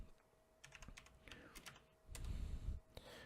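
A computer keyboard is tapped to enter a switch configuration command, with quick irregular keystrokes up close and a brief thump partway through.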